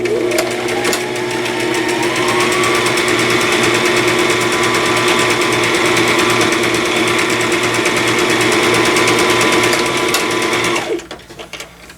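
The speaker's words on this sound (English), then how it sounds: "layer the first one on top, and just sew it down my 1/4 inch seam" A sewing machine runs a continuous fast stitching whir for about eleven seconds while sewing a 1/4 inch seam on a cross stitch pillow panel, then stops, leaving faint handling noise.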